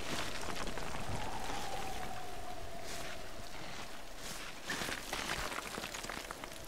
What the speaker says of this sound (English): It's raining as well, so it's very slippery.